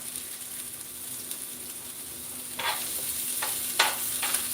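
Vegetables sautéing in a pan for breakfast, a constant close sizzle with a few distinct scraping stirs of a utensil toward the end.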